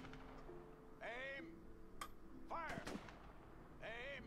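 Gunshot volleys of a gun salute fired in the video game A Way Out, a few separate loud cracks spaced apart over quiet game background and music.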